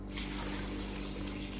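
Water pours steadily into a pot of beef karahi holding beef, tomatoes, onion, crushed ginger and garlic. It makes a continuous close rushing splash with no talk.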